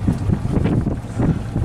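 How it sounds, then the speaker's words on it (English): A boat engine hums steadily at sea as the boat edges out past a buoy, a continuous low rumble heard under loud buffeting wind across the microphone. "Also listen to how the engine's sounding."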